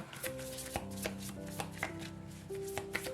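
Tarot cards being shuffled by hand in several quick riffling bursts, with sharp slaps and flicks over soft background music; up close, with no talking.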